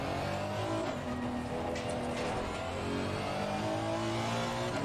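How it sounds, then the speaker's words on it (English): A race car in Assetto Corsa Competizione at Silverstone, with a steady, loud engine drone and a faint passing swell of another faster car closing from behind. "Faster car coming up behind."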